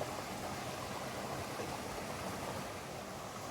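Creek water rushing along an Appalachian Trail crossing in Connecticut, a steady broad roar of flowing water that stays constant and even, close by with no voices.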